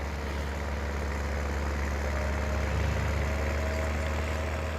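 Tractor engine running in the Farming Simulator 19 video game, a steady low diesel drone with constant rumble, holding at an even level throughout without any voices.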